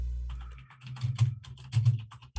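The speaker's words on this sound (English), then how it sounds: "just typing into the chat" Typing on a computer keyboard during an online chat show, with irregular bursts of close, soft key clicks running for a couple of seconds and no talk over them.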